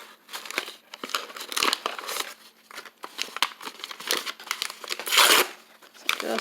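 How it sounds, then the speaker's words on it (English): Paper envelopes torn into pieces for handmade paper, giving close, irregular crinkling and ripping sounds in quick bursts, with one louder tear near the end and no speech. "So just want to tear down a little bit more"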